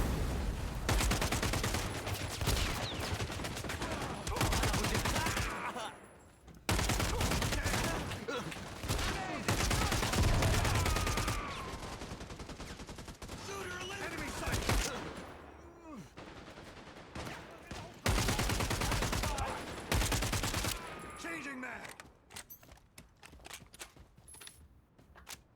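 Heavy gunfire in the Caliber shooter game, dense repeated bursts of loud shots across a sustained firefight, broken by short pauses, under occasional talk.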